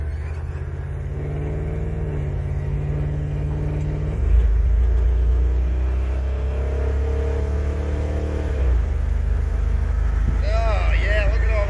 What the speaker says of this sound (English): Maiden voyage, pulling her out on the highway.